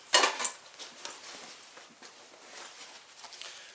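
A metal pan and skillet clank as camping gear is handled, starting with a sharp close rattle followed by lighter scattered taps and knocks that fade to faint shuffling.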